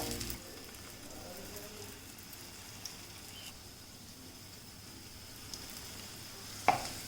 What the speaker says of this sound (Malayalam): പാൻ ഇവിടെ ചൂടായിട്ടുണ്ട്. അപ്പം നമുക്ക് ഈ ഫില്ല് ചെയ്ത് വെച്ചിരിക്കുന്ന ഇത് നമുക്കിതിലേക്ക് വെച്ച് കൊടുക്കാം.